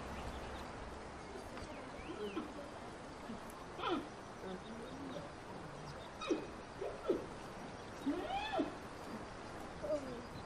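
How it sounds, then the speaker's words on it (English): A wild animal gives several short chirping and moaning calls, spaced a few seconds apart over a faint, noisy background. "starts chirping and moaning very loudly"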